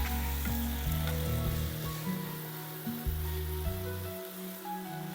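Beef steaks sizzle and fry steadily in a hot pan after being turned, a continuous close crackle with a few soft knocks and shifting tones.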